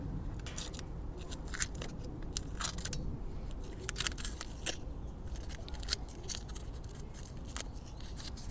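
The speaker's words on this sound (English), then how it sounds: "We can take this tape off." Tape is peeled off LED cowl lights fitted to a Pathfinder, heard as close, faint crackling rips and sticky tearing in short irregular bursts, with no voices.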